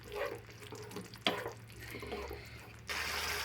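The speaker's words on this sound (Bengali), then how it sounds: "পোস্ত বাটিটা ধুয়েই জলটা দিয়ে দিলাম" Water from rinsing a poppy seed paste bowl poured into a cooking pan of fish curry gravy, a splashy pour with a sharp clink partway, then a steadier rushing stream at the end.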